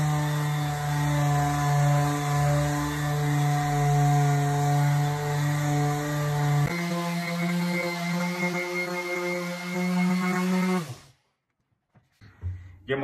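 A power sander with 80-grit sandpaper on solid wood whines steadily with a droning hum, shifting pitch partway through, then cutting off abruptly into near silence.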